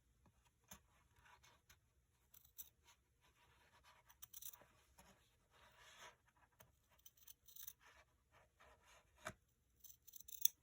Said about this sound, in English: we're gonna cut and remove the excess fabric